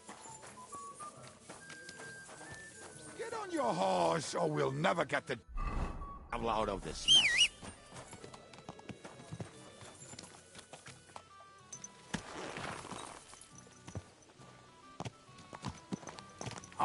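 Horse hooves clip-clop in an irregular walking rhythm under spoken dialogue and a music score, staying moderately close throughout.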